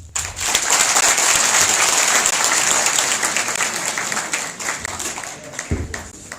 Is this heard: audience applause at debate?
yes